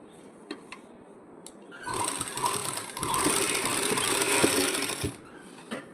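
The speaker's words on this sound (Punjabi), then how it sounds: "ਇਦਾਂ ਆਪਾਂ ਇੱਕ ਸਲਾਈ ਲਗਾ ਦਾਂਗੇ" A sewing machine runs a line of stitching along the edge of a garment lining, a steady mechanical whir rising from about two seconds and holding for roughly three seconds, preceded by quieter handling clicks.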